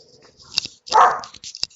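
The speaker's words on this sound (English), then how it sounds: "my dogs are going crazy right now" Several dogs barking indoors in short, sharp bursts, with one longer, louder bark in the middle and a few yips and whimpers around it, fairly close.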